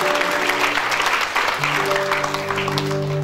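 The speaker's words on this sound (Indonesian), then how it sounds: "Tepuk tangan buat Yesus." A church congregation claps together in a steady, dense burst of applause that fills the room, with sustained organ or keyboard tones ringing underneath.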